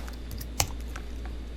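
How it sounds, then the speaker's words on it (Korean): A single sharp click of a computer keyboard key, pressed once as a shortcut in Adobe Illustrator, stands out briefly against a low, steady background hum. "이 키보드의 G자를 누르게 되면"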